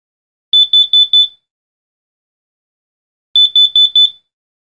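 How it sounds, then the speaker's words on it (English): Two bursts of four rapid, high-pitched electronic beeps from a First Alert/BRK detector signaling carbon monoxide, separated by a few seconds of silence, loud and clear. "The sound pattern for carbon monoxide detection is four quick beeps."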